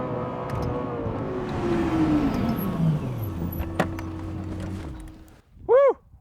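Lexus LFA supercar engine revving up loudly on a track, a rising, harmonic-rich roar that sweeps upward then settles into a steady high drone, followed by a short sharp whistling tone near the end.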